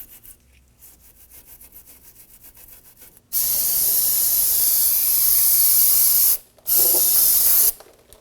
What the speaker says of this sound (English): We're going to spray it down with some rust penetrant.